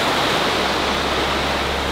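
A jungle river flowing, a loud steady broadband rush of water that fills the whole moment without pause or voices.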